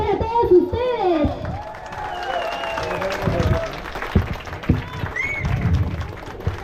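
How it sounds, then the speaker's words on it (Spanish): Residents clap and cheer at the inauguration of newly paved roads and sidewalks in a human settlement, with a loud voice talking over the applause and scattered shouts throughout. "¡Aplausos para todos ustedes!"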